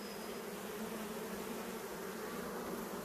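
Bees buzzing steadily and close by around a person outdoors near hay, a continuous droning hum with no talking.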